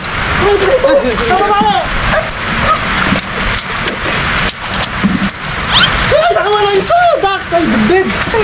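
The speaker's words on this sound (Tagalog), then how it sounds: "Lumakas na nga ng sobrang ulan." Heavy rain pours outdoors in a steady hiss, with a dog barking and whimpering through it and voices talking over the downpour.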